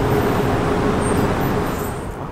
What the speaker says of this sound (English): We're stuck in traffic right now.